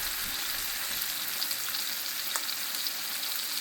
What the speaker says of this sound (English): add your steak. Add pressure so you can get that nice golden brown color. Do not be afraid of the oil.